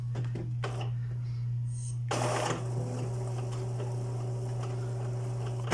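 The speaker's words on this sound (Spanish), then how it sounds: "Aquí se va a reiniciar la impresora otra vez." An Epson L3110 inkjet printer restarting gives a steady mechanical hum, then a burst of whirring and clicking as the print head moves, then settles back into a constant drone with faint ticks.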